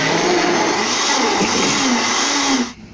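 A blender whirs steadily as it blends blackberries with water for a homemade fruit beer, running loud and continuous for most of the clip before cutting off abruptly near the end.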